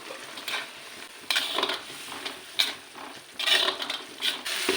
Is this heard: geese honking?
no